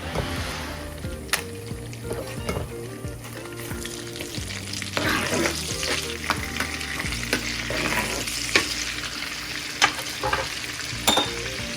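Five or six dried red chillies crackle in hot oil in a pan for a palak paneer tarka, with a busy close sizzle, bubbling pops and stirring scrapes throughout.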